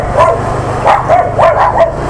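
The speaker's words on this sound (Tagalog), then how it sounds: "Ang laking aso." A big dog barks in a quick series of about five loud, close barks over a steady low motorcycle engine hum.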